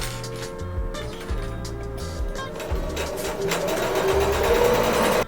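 A sewing machine stitches through quilting layers for a home decor piece, running steadily and close up with a continuous rhythmic whir and needle clatter, no talking.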